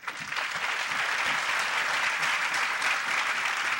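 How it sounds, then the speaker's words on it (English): Dense applause from a large crowd fills the space, steady and sustained, with no voices standing out. "we will call them all together for a large round of applause"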